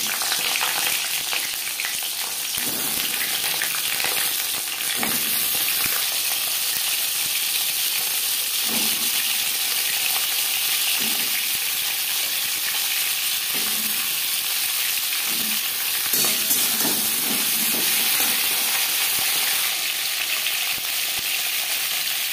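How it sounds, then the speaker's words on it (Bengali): Slit pointed gourd (potol) fries in hot refined oil with a loud, steady, close sizzle and occasional soft bumps from stirring. "সবার প্রথমে পটল ভেজে নেব।"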